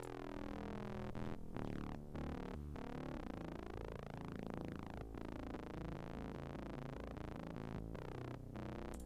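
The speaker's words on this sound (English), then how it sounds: "bassline melody 2, which sounds like this" A droning hardstyle synth bass layer for the sub bass, made in FL Studio, plays continuously, its tone sweeping and phasing as a filter opens and closes, with short rhythmic dips throughout.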